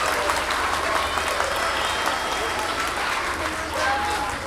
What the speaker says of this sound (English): Yes, another round of applause, yes, for the third grade.